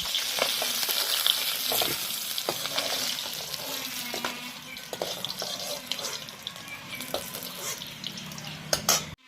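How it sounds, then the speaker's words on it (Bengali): Shati fish frying in oil in a home kitchen, a continuous loud sizzle with scattered pops and clinks of stirring throughout, heard up close with no talk. "মাছ ভাজা তেলের মধ্যে"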